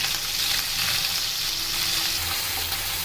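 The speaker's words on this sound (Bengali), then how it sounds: "আমরা রান্না করার জন্য বেলে মাছগুলোকে ভেজে নিচ্ছি।" Bele fish (tank goby) frying in hot oil, a loud, continuous, close-up hiss and crackle with no pauses.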